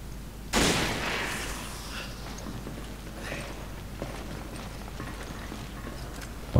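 Gunshots in Resident Evil 5 gameplay: a sharp, loud shot opens, then fainter scattered shots and game noise follow at moderate distance, with a brief loud burst at the very end.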